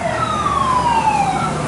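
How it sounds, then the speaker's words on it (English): An emergency vehicle siren near Knott's Berry Farm sweeps in one long descending wail over steady traffic rumble, moderately loud and fairly close. "And these sirens, they're probably coming for you."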